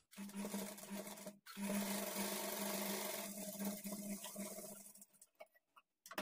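A sewing machine stitches darts on a blouse with a half-inch margin, running in a brief burst, pausing, then a longer steady whirring run that slows into a few halting stitches and clicks.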